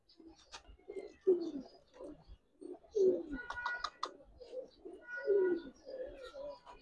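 Pigeons cooing, red-tailed Saharanpuri birds among Giribaz coloring pigeons, in a series of soft, throaty coos recurring close by in several bursts, with faint chirps between and no talk.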